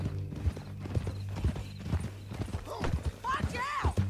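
Horse hooves clip-clop at a steady walking rhythm in the Western game Red Dead Redemption 2, close and regular beneath conversation between riders, with a brief whinny-like sound near the end.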